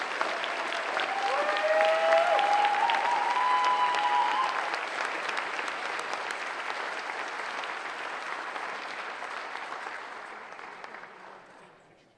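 An audience applauds Wall of Honor inductees at a school sports awards ceremony, sustained clapping from a large crowd that swells early, holds steady for several seconds and slowly fades out.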